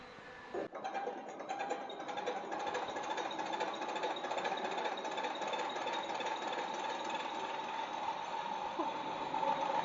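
A MINI12PSB diesel injection pump test bench running a mechanical pump: a steady, dense mechanical hum and rapid knocking clatter that starts with a sharp thump and then holds at an even, loud level throughout, without speech.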